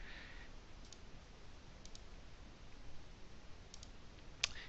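A computer mouse gives several soft, isolated clicks at irregular intervals, close and quiet against a faint hiss, with one sharper click near the end.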